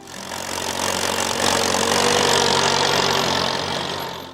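A Farmall M tractor's larger four-cylinder engine runs with a deep, steady rumble, swelling in loudness through the middle and easing slightly toward the end, with no other sounds.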